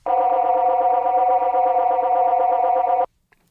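Feedback recorded from an Echostation effects unit: a sustained, buzzy, harmonically rich tone with a slight wavering pulse, holding steady and loud for about three seconds before cutting off abruptly into near silence.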